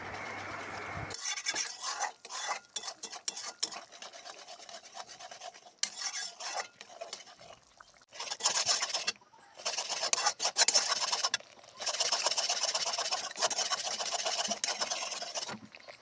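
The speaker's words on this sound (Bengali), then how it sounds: "এখন হলুদ, লঙ্কার গুঁড়ো দিয়ে ভালো করে নাড়াতে থাকবো" A spoon works turmeric and chili powder around a hot pan, giving steady scraping and rasping strokes close by, with a few short pauses between bursts of stirring.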